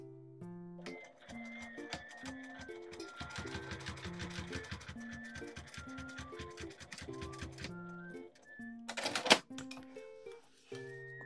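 A sewing machine stitches a neck cooler made from a Seria lunch cloth, with rapid rhythmic mechanical bursts of stitching, pauses between runs, and some close clatter and handling, all without talk.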